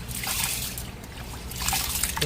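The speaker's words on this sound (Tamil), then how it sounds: "இனி அரிசியையும் அதே மாதிரி ஒரு 2-3 தரம் கழுவி எடுப்போம்." Rice being rinsed two or three times in a bowl of water, giving a steady trickling and sloshing wash with soft splashes that swell near the end, close and fairly quiet with no talk.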